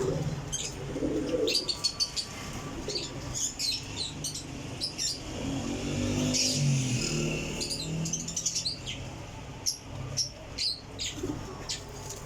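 Pigeons at a loft coo and chirp in a busy, close mix of calls, with soft rustling and fluttering underneath and no speech.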